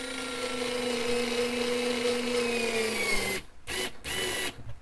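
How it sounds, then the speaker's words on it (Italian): Aleapow mini cordless electric screwdriver with angled chuck driving a screw into the edge of a piece of wood: a steady, close whirring motor whine holding for about three seconds, then a few short stop-start bursts as the screw seats. "Quindi proviamo ad avvitare una vite e mettiamola qua sul bordo."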